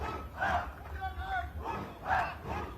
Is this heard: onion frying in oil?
no